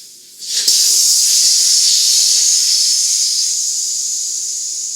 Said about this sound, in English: when I shut down the compressor now and I let all the air out